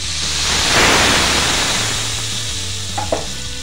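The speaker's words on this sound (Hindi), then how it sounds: "इसी स्टेज पे अपना प्याज लहसुन अदरक का पेस्ट डाल देंगे" Loud, steady frying sizzle of onion, garlic and ginger paste in butter in a pan with a stirring scrape, a continuous hiss that swells early then settles, with a couple of light clinks near the end.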